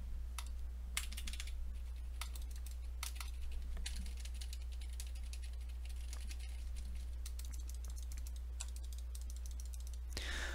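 Soft, muted typing on a low-noise mechanical keyboard with quick irregular key presses and occasional mouse clicks, quiet and close over a low electrical hum.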